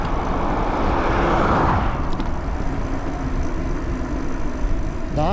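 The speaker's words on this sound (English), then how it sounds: "Lot of traffic out today." Road traffic rushes past a rider stopped at the roadside on an e-bike, a constant loud roar of cars and heavier vehicles close by, with no voices.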